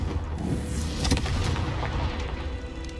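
A Confringo fire spell blasts in Hogwarts Legacy, heard as a heavy rumbling boom with a crackling burst near the middle, over a dense, loud low roar that then fades out.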